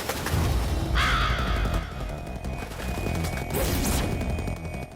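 A crow caws loudly and close at about one second, its harsh call sweeping down, with a second squawk later over a rumbling, busy background.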